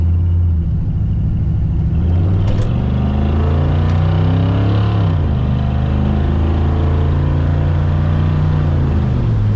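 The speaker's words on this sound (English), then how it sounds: "Very good acceleration in this truck." A 1969 Chevrolet C10 pickup truck accelerating, its engine rumbling loud and close with rising and falling pitch as it revs through the gears, with no talk over it.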